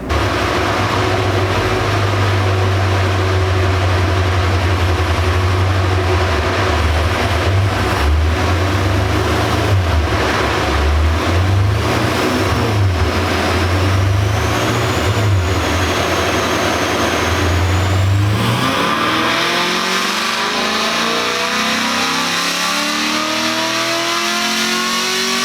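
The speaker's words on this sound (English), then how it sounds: "And then we went for the third dyno pass." Car fitted with headers, an X-pipe and a tune revving hard on a dyno, a loud continuous engine roar that climbs through the rpm range, then drops off into a falling whine.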